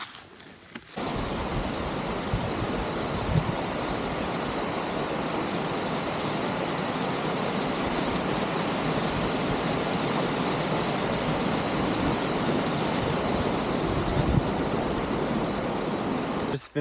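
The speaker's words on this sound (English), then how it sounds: "These are Canim Falls." Canim Falls in the British Columbia backcountry in freezing cold, a steady broadband roar of rushing water that holds constant and loud for the whole stretch after a brief quieter start.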